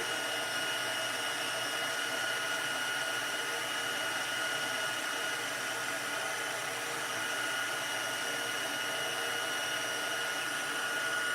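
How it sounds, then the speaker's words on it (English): A crafting heat tool blows hot air over embossing powder, a steady close hairdryer-like whoosh and hum running unbroken and even throughout. "it is starting to melt that embossing powder."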